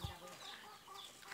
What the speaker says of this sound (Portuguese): Aqui as galinhas.